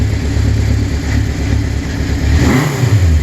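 A 1969 Honda CB750 sandcast motorcycle engine revs up close and loud, a steady throaty drone that surges higher near the end, with no talking.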